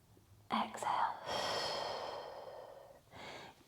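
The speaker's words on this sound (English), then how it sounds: "exhaling, inhaling, exhaling. Last one, inhaling," Slow, deep breathing during a lower back tension stretch, a sharp inhale followed by a long, drawn-out exhale and then another breath, close and soft with no talking over it.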